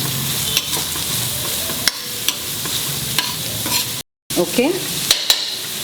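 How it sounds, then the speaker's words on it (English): Dry shrimp curry sautés over a medium flame, a steady close sizzle broken by sharp scrapes and clacks of stirring in the pan, with one brief word spoken and a short gap of silence near the end. "And saute it on a medium flame."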